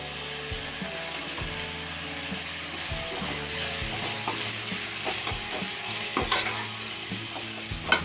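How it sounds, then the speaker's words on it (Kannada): Tamarind juice poured into vangibath gojju frying in a pan, with steady sizzling and scattered clinks and stirring scrapes of a spoon against the vessel, close and fairly loud, no talking. "ಈಗ ಹುಣಸೆಹಣ್ಣು ಏನು ತಗೊಂಡಿದ್ದೆ ಹುಣಸೆ ರಸ ಅದು ಸ್ವಲ್ಪ ಹಾಕ್ಕೊಳ್ತಾ ಇದ್ದೀನಿ"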